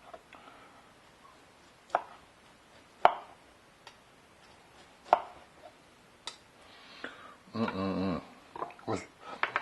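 Grill-roasted gyro meat being sliced on a board, with sparse sharp knife knocks spaced a second or two apart, then a short burst of quicker cutting and scraping near the end, quiet between strokes.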